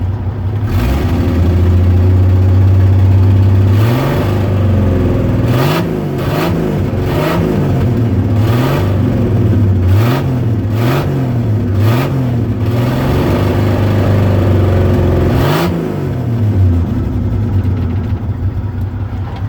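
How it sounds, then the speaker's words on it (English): A 1974 Chevrolet Nova engine runs steadily with a slight miss, loud and close, with repeated rising revs blipping over a low, rumbling idle throughout. "I do have a small miss, and I can tell that this motor needs running"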